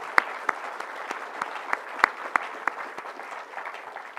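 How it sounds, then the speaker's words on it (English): A small audience at an architecture awards ceremony claps for the jurors, steady scattered applause with distinct individual claps standing out, moderately close. "So can I have a little round of applause for all of them?"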